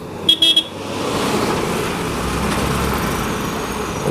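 A city bus passing in Brazilian street traffic, opening with a few short car-horn toots followed by a steady rumble of engines and road noise close by.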